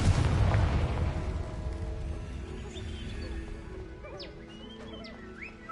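A Confringo blasting spell in Hogwarts Legacy goes off with a loud, close explosion at the start, then a long rumbling decay scattered with crackles and small magical chirps fading out over several seconds.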